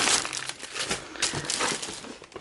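Silver foil-like paper packaging from a stockpile haul being handled, a close crinkling and rustling that comes in bursts for a couple of seconds with no speech.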